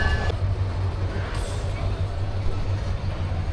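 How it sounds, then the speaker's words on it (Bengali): The Burimari Express pulls out of Parbatipur junction with a steady low rumble of the train, and a continuous loud rolling drone with faint squeals on top. "ফাইনালি আমাদের ট্রেন ছেড়ে দিল পার্বতীপুর জংশন থেকে"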